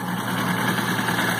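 A Fiat 147 car fitted with a Chevrolet Celta ignition coil idles with a steady, even engine rumble and hum, close and continuous throughout.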